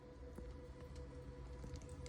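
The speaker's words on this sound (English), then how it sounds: "I just dropped the phone in the bilge filled with water" A phone drops into the water-filled bilge of an 85-foot yacht, and the sound turns faint and muffled with a continuous wet squishing and dripping texture. No one talks.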